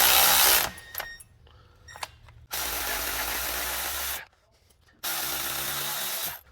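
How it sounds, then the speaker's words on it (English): Electric ratchet spinning loudly while pressing on front brake parts of a 2015 Toyota Camry, in three bursts of whirring with short quiet gaps between them. "All right, so got my electric ratchet."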